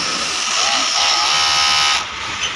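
An overlock sewing machine, set to a thin stitch gauge, runs and stitches with a loud, steady high-pitched whir before slowing near the end.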